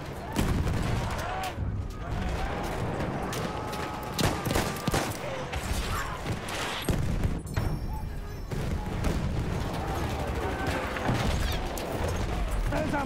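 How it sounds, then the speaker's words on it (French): A grenade blast and dense rifle and machine-gun fire fill a Battlefield 1 battle, with continuous loud overlapping shots and impacts throughout and voices shouting beneath the chaos. "Oh, grenade!"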